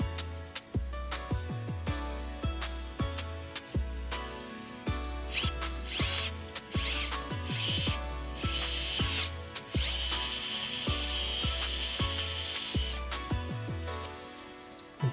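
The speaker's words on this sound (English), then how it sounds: "preferably with a good drill" A power drill bores into metal in a BMW E90 engine block, working in repeated short bursts with rising whine and grinding, then a longer steady run near the end, close and loud.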